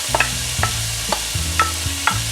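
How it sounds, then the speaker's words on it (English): Chopped onion sizzles in about two tablespoons of melted butter in a skillet, a steady frying hiss with soft stirring knocks about every half second, close and alone without talk. "I've just melted about 2 tablespoons of butter. And we're going to go ahead and we're going to add our onions"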